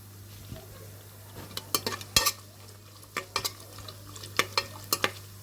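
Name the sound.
cashews and raisins frying and stirred in pan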